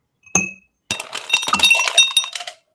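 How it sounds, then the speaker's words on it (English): Ice cubes clink into an Old Fashioned glass that has tobacco on it: one sharp chink, a short pause, then a dense run of rattling, tinkling clatter as more cubes tumble in, close and fairly loud. "Put some ice in that glass with the tobacco on it."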